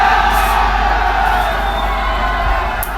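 A dense crowd gathers outside a hotel at a large Jaipur fan meetup, its steady roar of cheering and shouting loud and unbroken, with whoops rising above the wash of voices throughout.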